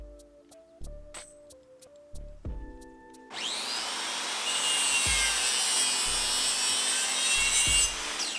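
A circular saw cuts into wood for a wooden Gundam model's nose air intake, starting with a few short tapping sounds before the blade bites in, then sustaining a loud, steady, bright whine for about five seconds.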